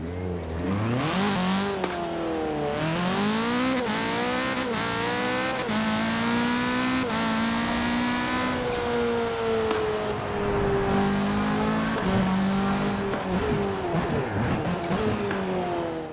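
A Honda Civic race car in Forza Horizon 4 revs loudly and continuously, its engine pitch climbing and dropping through repeated gear changes, with occasional tire squeal, close and alone.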